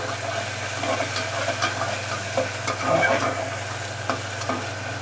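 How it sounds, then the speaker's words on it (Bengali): Spice paste fried in a pan for Gobindobhog rice pulao, giving a steady close sizzle with repeated soft scrapes and stirring knocks of a spoon, alone with no talk and a low hum underneath. "এবার এই মশলাটাকে একটু লাল লাল করে ভেজে নিতে হবে।"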